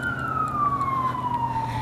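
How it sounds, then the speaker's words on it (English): A single long falling siren tone from an emergency vehicle, presumably an ambulance, sweeps past on a city street, clear and moderately loud over traffic rumble. "I think an ambulance."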